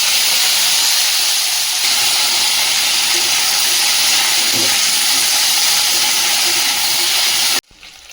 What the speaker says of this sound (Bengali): ভেন্ডিগুলো ভেজে নেব।